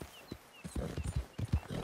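Horse hooves clip-clop in Red Dead Redemption 2, a run of quick, fairly close steps that pick up after a quiet start and carry on steadily to the end.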